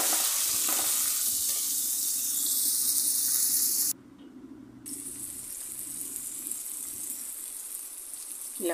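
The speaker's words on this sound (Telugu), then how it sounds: "సో ఇలా టమోటాలు కూడా 1 minute ఆయిల్లో ఫ్రై అయిపోవాలి" Chopped tomatoes sizzling in hot oil for a Rayalaseema-style ridge gourd curry, a steady close hiss with occasional stirring scrapes, briefly cut out near the middle before resuming, no voices.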